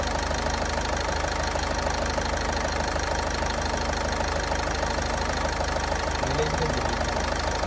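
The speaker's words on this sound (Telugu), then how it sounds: "ఇంజిన్ కూలెంట్, ఇంజిన్ కూల్ చేసే ఫ్యాన్ అది." An engine cooling fan runs on a Toyota Etios car with 1.8 lakh km driven, giving a constant, even drone mixed with the idling engine's steady hum from close by for the whole stretch.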